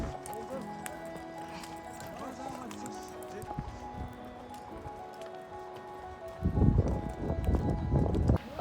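Horse hooves clip-clop on a mountain trail leading up to Kaindy Lake near Almaty, Kazakhstan, growing louder and busier in the last two seconds over steady background sound.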